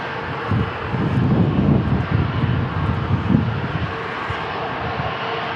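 An Alaska Airlines jet takes off at San Diego International Airport, its engines roaring as a loud, steady broadband rumble that swells and holds throughout with no talk.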